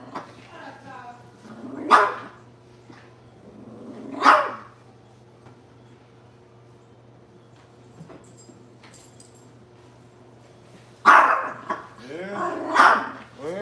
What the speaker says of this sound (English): They got this big old dog in here.